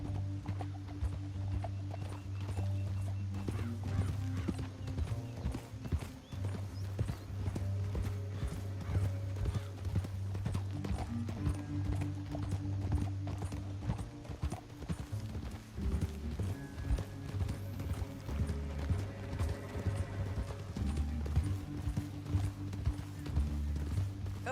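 Horse hooves clip-clop steadily in Red Dead Redemption 2, a continuous rhythmic trotting beat over low ambient game sound and music, with no talking.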